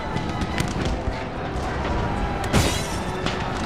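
Dense crackle of musket fire and distant booms from a Napoleon Total War battle, with a sharper volley burst partway through, all over a continuous rumbling background.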